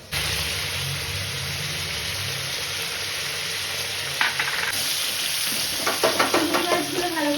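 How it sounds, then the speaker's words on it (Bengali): Prawns fry in oil for a Bengali prawn-and-poppy-seed dish, a continuous close sizzle joined near the end by a few clinks of a utensil stirring in the pan. "মাছগুলো ভালো করে ভাজা হয়ে গেছে"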